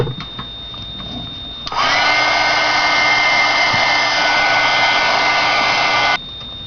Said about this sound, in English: I'm going to hold on to it with my tweezers, and I'm going to emboss it.